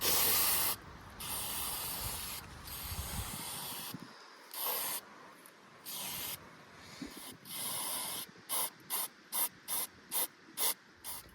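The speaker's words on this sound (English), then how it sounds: "So I'm cleaning with the brake cleaner." Brake cleaner sprays onto a Toyota Celica TA22 engine, first in long steady hissing blasts, then in a quick series of short repeated bursts, close and loud.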